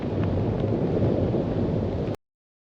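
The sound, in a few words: wind blowing on GoPro Hero 11 microphone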